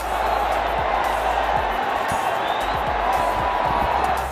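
Big stadium crowd in Ahmedabad applauding and cheering as a speaker comes onto the stage at a packed cricket ground, a steady dense roar of clapping at constant loudness throughout.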